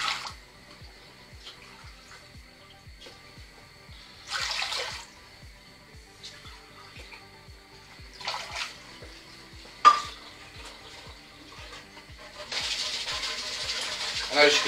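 Short bursts of water splash into a cooking pot of rinsed sushi rice at intervals, with a longer steady pour near the end, over a soft ticking rhythmic beat.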